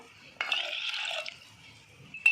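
Water is poured onto chana dal in a vessel to wash it: a brief, close liquid splash and trickle lasting about a second, then a short clink of a vessel at the end.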